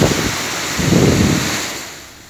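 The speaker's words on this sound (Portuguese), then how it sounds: "Foram apenas 15 minutos de chuva e vento forte" Heavy rain and strong gusting wind during a violent windstorm over a town on a Sunday night, a loud, continuous broadband roar with low rumbling surges that swell and then ease off slightly toward the end.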